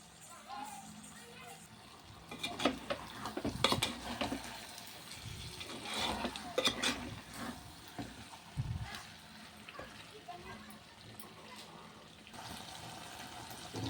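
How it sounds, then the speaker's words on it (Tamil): Chicken masala for chicken vepudu being stirred in a pan over a low simmer, with soft scraping and a faint sizzle that rise and fall in bursts, quiet and close. "அடி பிடிக்காத அளவுக்கு நல்லா கிளறி விட்டுடலாம்"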